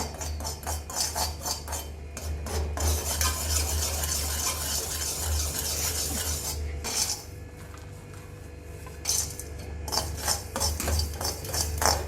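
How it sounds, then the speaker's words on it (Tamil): Turmeric powder and spices are stirred in a pan while a snack cooks, the spoon scraping and clinking against the metal in bursts over a low steady hum and faint sizzle, close, with no voices. "அதுக்கப்புறம் மஞ்சள் பொடி, போட்டு லைட்டாக பரட்டி விடுங்க."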